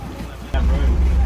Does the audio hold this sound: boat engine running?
yes